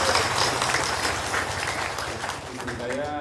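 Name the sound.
audience applause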